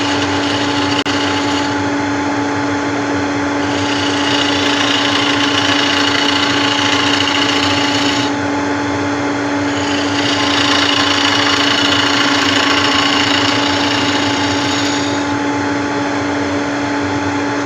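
A fresh carbide cutter working wood on a lathe, with a loud, steady motor hum and continuous cutting hiss that run throughout, swelling and easing slightly as the tool is pressed and lifted.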